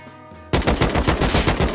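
AK rifle fire in the game Rust: after a brief quiet hum, a loud, close burst of rapid automatic shots cracks out in a fast, even rhythm for over a second.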